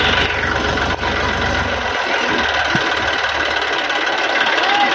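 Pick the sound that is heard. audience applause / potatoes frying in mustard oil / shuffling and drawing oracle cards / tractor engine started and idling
tractor engine started and idling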